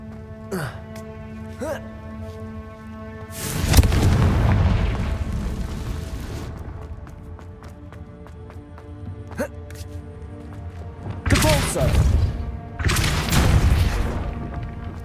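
Booming Confringo spell explosions in Hogwarts Legacy, three loud bursts with long rumbling tails, separated by quieter stretches with a few sharp zaps, and a voice calling out at times.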